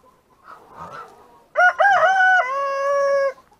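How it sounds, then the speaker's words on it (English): A rooster on a farm gives one short, drawn-out crow close by, rising then holding steady before trailing off, after some faint clucking and shuffling. "that was a lazy crow"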